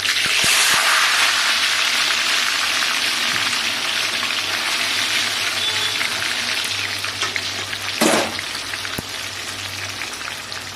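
A big fish fries in a pan of hot oil for fish kebab, giving a loud, continuous sizzle with a brief burst of louder spattering near the end.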